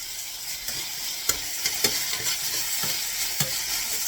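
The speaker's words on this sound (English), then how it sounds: "I'm going to do it on medium heat and keep stirring it until it melts." A pan on medium heat gives off a steady sizzle with repeated scraping strokes of stirring, at an irregular rhythm of about one per half second, close and fairly loud with no voices.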